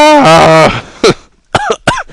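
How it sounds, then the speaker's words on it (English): Someone sick with a cold coughs loudly and close up, a harsh rasping fit followed by three short separate coughs, with no other sound between them. "I'm coughing. I have a cough. Bad cough."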